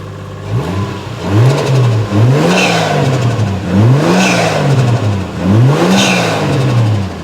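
A Toyota JZX100 Chaser Tourer-V car engine, not yet warmed up, revs up and falls back several times in a loud, repeating rhythm, each rise rising in pitch before dropping to idle.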